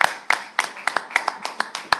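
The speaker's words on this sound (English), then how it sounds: "everybody here would give her a round of applause" Hands clap at a class reunion evening, a short run of about a dozen sharp, evenly spaced claps from a small group or single person.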